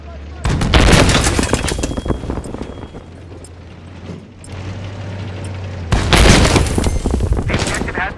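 Machine gun fire on a Tehran highway in Battlefield 3 multiplayer comes in two loud, dense bursts of rapid rattling shots, with quieter distant battle noise between them and no talk.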